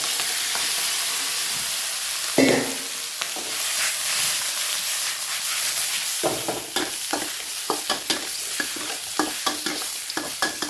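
Frog pieces stir-fried with red curry paste in a hot pan give a loud, steady sizzle, with repeated scraping strokes of the spatula growing more rhythmic toward the end.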